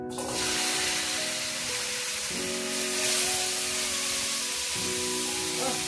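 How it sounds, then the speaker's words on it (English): Pork chops seasoned with adobo sauté in a hot pan. A steady, close sizzle and hiss holds for about six seconds, with a low hum running underneath. "go ahead and get those into saute"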